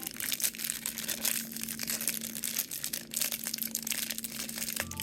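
Plastic wrapping on a pack of Digimon trading cards crinkles and crunches as it is opened, a close, continuous rustle with uneven bursts throughout.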